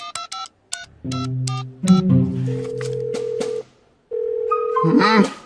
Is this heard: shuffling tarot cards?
no